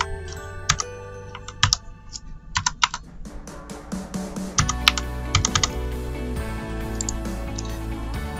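Login details being typed on a computer keyboard: bursts of quick key clicks with short pauses, close and crisp, then a denser run of keystrokes over a low steady hum.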